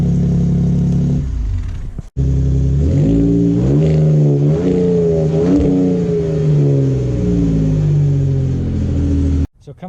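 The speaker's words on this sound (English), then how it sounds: "it'll start right up with that twin turbo V6" A 2018 Ford Raptor truck's twin-turbo V6 turns over and settles into a steady, loud idle with a few revving swells, cut off briefly near the start and end.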